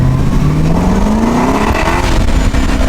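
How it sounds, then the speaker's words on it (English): LS3-swapped BMW E36 accelerating hard with wheel spin, a loud V8 engine note climbing steadily in pitch over a continuous roar of tire and exhaust, close up and with no talk. "It's just all wheel spin."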